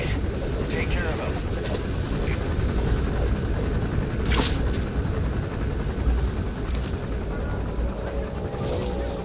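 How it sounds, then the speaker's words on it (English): An enemy helicopter gunship in Metal Gear Solid V drones steadily nearby, a constant loud rotor rumble running beneath voices that speak throughout. "That's an enemy gunship"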